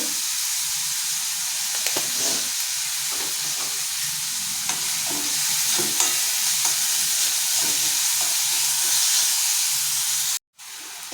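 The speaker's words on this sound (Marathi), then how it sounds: "आपला कांदाही भाजत आलेला आहे" Onion fries in a pan with salt and asafoetida, giving a steady loud sizzle and hiss with occasional scrapes of stirring, continuous and close, cutting off abruptly near the end.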